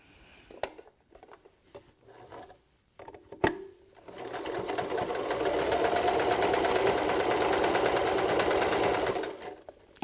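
A sewing machine stitching the side seams of a beanie in black thread runs in one steady, fast, close whir for about five seconds, after a few quiet clicks and handling knocks.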